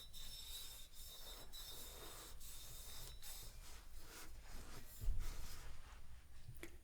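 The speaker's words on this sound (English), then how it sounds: "it feels nice and smooth when I rub the dish towel over it" A dish towel rubs steadily over a metal mug being polished, a continuous close scrubbing swish with faint periodic strokes and no talk.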